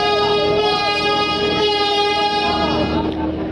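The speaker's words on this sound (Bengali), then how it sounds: "ফাইনালি 3টে হরেন দিল আর ব্যাক গিয়ার করেও দিল" A Barishal passenger launch lets out a loud, sustained, deep tonal horn blast, steady and close for most of the span before tapering slightly at the end; the three separate soundings are not clearly distinguished.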